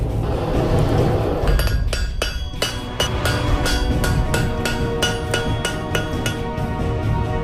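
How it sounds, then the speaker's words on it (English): Iron rods twisted together being repeatedly hammered and heated to forge a sword blade: a steady series of sharp metallic hammer strikes ringing with clinks, loud and close over a low background rumble, with no talk. "Iron rods are first twisted together and then repeatedly hammered and heated to create a blade of superior strength."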